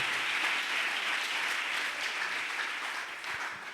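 A church congregation claps and cheers in sustained, dense applause, loud and even throughout before tapering slightly at the end.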